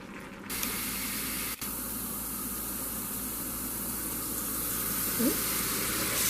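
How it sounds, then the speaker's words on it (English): Cold tap water runs steadily over cooked macaroni noodles in a colander, a continuous close hiss with a brief clatter near the start. "So I'm running cold water over my noodles"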